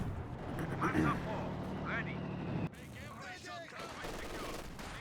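Gunfire and suppressive machine-gun bursts in Company of Heroes, with a six-pounder anti-tank gun firing on a Panzer IV, an MG42 and smoke grenades; dense, continuous battle noise with sharp reports and a lull partway through.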